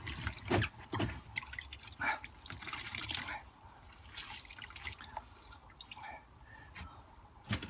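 Water dripping and splashing from soaked, hand-squeezed wormery bedding, irregular close drips and short trickles, some louder bursts early on, then quieter scattered drops, with no talking.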